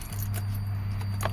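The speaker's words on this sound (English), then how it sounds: "Let's put our key on." A key is slid into the ignition of a 2005 Toyota Passo that has a no-start fault, with a few short metallic jingles and clicks close by over a steady low hum.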